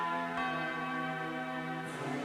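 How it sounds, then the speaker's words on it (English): City bells ring out together in a rich, sustained peal, the overlapping tones droning steadily at moderate loudness with no voices over them. "I heard all the city bells begin to ring"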